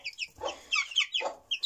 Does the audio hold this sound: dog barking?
no